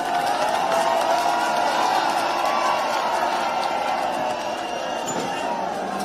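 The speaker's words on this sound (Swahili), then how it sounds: "Let us appreciate His Excellency kwa makofi" Crowd at an outdoor ground-breaking ceremony for the President at Kangeta Market applauding and cheering in a steady, broad wash of noise, with a voice speaking over it.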